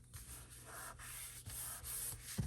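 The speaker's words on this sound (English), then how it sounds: "I'll burnish that down like so." Quiet close rubbing strokes as glued paper is burnished down onto a folio by hand, a few soft scraping passes in a row, faint and alone.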